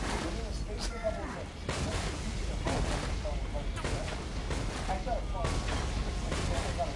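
Gunfire aimed at the player in the video game Saints Row, repeated sharp shots over a rumbling game soundscape, spaced irregularly across the clip.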